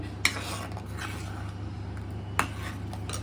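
Butter garlic prawn ingredients stirred in a pan, with two sharp utensil clinks against the metal over a steady low cooking hum.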